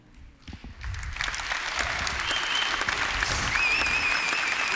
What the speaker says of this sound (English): This is the applause.